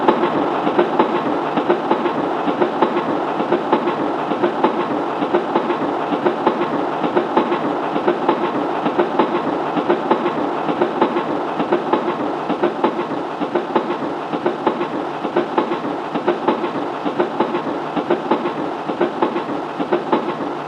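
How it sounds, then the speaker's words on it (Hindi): A train rolls past loudly and close, with continuous rumble and rhythmic clickety-clack from the wheels on the rails throughout, and no voices. "ट्रेन तो गुजर गई"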